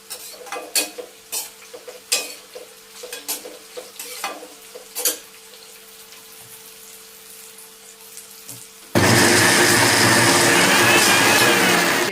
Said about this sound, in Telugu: ఇది మిక్సీ చేస్తాను